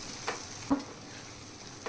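Two quick spatula scrapes stir spiced mashed eggplant in a pan over a faint sizzle.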